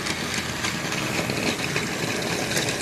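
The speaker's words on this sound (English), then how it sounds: "this does trundle along as you would expect to find a little shunting engine" A little 009 narrow-gauge model shunting engine trundles around a layout, giving a steady, even motor whir and rattle that stays close and constant throughout without pause.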